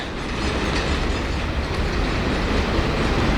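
A short freight train rumbles past close by at Shenandoah Junction, West Virginia, a steady loud roar of wheels on rails with a faint rhythmic clatter.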